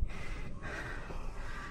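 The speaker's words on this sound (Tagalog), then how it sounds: "Hingal check. Hingal check. Hingal check." Heavy panting and gasping breaths after a climb up a steel-framed treehouse outdoors, steady and close to the microphone with no talk.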